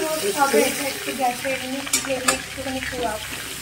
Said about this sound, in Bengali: ওটা হালকা করে ভেজে নেওয়ার পর এবার একটু রোস্ট করে নেওয়া হচ্ছে।